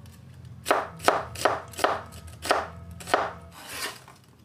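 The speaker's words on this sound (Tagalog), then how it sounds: "7 pirasong kamatis. Hiwain natin to ng maliliit." A knife chops tomatoes into small pieces on a board: about seven crisp, evenly spaced strokes, close and clear, with no voices.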